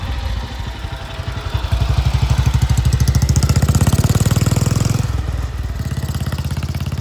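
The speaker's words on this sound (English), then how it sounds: "As I say, it's a BSA built engine." A 1942 BSA WM20 wartime motorcycle, its BSA-built single engine rebuilt with a new barrel, piston and head, runs loud and close, with a rapid, steady thumping beat that rises briefly in pace before settling back.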